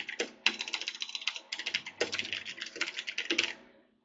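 A computer keyboard clatters with steady, quick typing as a name goes onto a PowerPoint slide for a cricket team presentation, the keys close and clear with two short pauses and no talk.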